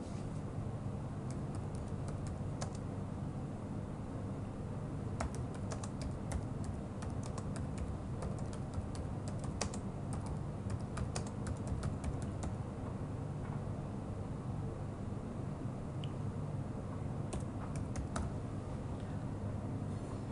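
Typing on a computer keyboard to enter a product description, with bursts of quiet, close key clicks at uneven intervals over a low steady background hum.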